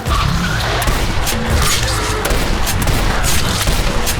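Loud shotgun blasts in the first-person shooter Legendary, heavy booming shots with crashing impacts in quick succession, set against a dense, noisy battle backdrop.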